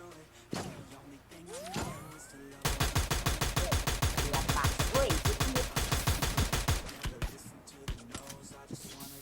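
Rapid automatic gunfire in the Free Fire shooter game, a long dense burst of evenly spaced shots after a few single shots and whooshing effects, with a player talking.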